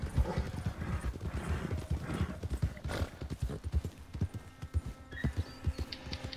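Horse hooves clip-clop steadily in Red Dead Redemption 2, a brisk rhythmic patter with an occasional whinny, under casual talk among players.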